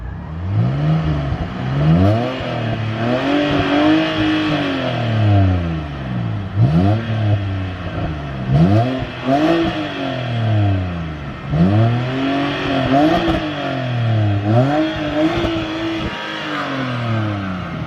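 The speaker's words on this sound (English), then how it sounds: "now we are going to hear what this thing sounds like, because it is a straight six" A BMW E90 330i with the N52 straight-six engine revs repeatedly, rising and falling in smooth, loud sweeps close to the microphone, each rev climbing then dropping back toward idle.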